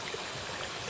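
A creek runs with water at the entrance to a wood after a night of thunderstorms, a steady, even babbling and hissing flow that stays constant and fairly close.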